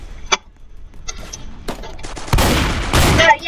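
Rapid drum gun fire in the video game Strucid, a loud sustained burst near the end after scattered shorter shots and game sounds.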